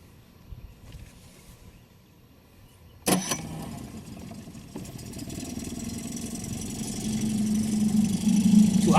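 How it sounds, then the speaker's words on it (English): A Tohatsu 9.8 outboard motor on a Sylvan Rodmaster fishing boat at Patoka Lake starts abruptly after a quiet pause, then idles steadily nearby, growing slightly louder, with no voices. "Tohatsu fires right up."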